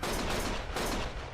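Dense, continuous gunfire from the video game Lost Judgment, a sustained fusillade of overlapping shots that stays loud and steady for a little over a second with no pause.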